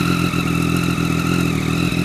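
A motorcycle fitted with an Austin Racing V3 titanium exhaust runs after startup, a loud, close, steady throaty engine drone with no speech.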